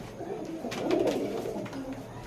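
A pair of chocolate dom pigeons, high-flying homing birds, giving soft throaty coos at close range, a short murmuring burst that swells and fades.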